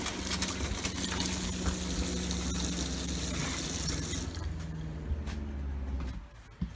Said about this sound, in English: You hear that pump kick off